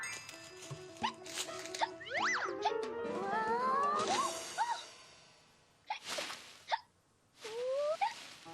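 A cartoon character hiccups in a children's animated episode: a series of springy, comic hiccup sounds with whooshing, boinging effects, each one close and fairly loud, with short quiet gaps between them.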